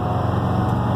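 An old bus drives through a neighborhood on Grand Avenue in Bloomington, and its engine gives a steady, close, low droning rumble with no breaks across one second.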